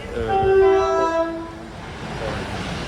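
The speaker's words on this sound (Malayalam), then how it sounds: "ഈ വരുന്നതാണ് നമ്മുടെ ട്രെയിൻ" An Elizabeth line train in London pulls into a station with a loud, sustained horn blast lasting about a second, followed by rumbling rail noise as it rolls closer.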